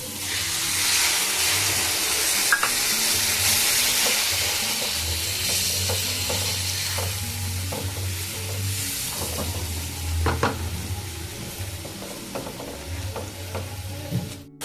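Curd and ground melon seed paste being stirred in a pan for a curd prawn dish, a steady scraping stir over a continuous frying sizzle with occasional clinks of the spoon, close and fairly loud throughout.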